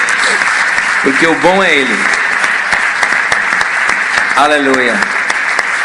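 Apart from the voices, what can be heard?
audience applauding in church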